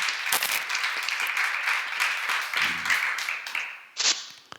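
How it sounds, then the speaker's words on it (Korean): A church congregation claps during a seminar on Ephesians chapter 6 at Jesus-Centered Church, with dense sustained applause for about four seconds, then a sharp louder burst near the end. "박수 치세요."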